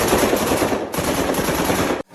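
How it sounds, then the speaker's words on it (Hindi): Rapid automatic gunfire rattles in one loud, continuous burst, pausing briefly once before resuming, then cutting off abruptly. "पहली गोली चली।"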